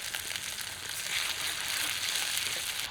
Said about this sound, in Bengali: কড়াইয়ের মশলাটা অল্প কষিয়ে নিলাম যাতে কাঁচা গন্ধের ভাবটা চলে যায়।